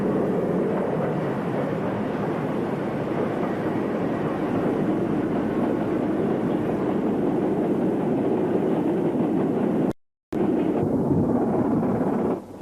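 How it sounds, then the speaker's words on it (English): A Stanier Class 8F steam locomotive hauls a freight train off the Daventry line, a steady, loud rumbling roar of engine and rolling wagons that continues with little change and breaks off briefly near the end. "And the Stanier Class 8F brings this freight working off the Daventry line."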